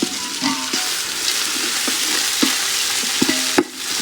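Green chili chicken pulao frying in a pot, a steady loud sizzle with repeated scraping knocks of a spoon stirring through it, close up and without talk.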